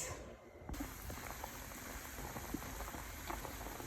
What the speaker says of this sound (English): the abe is boiling